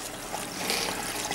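Water flows through a homemade NFT hydroponic setup as a steady, close hiss and trickle, running continuously without any talk.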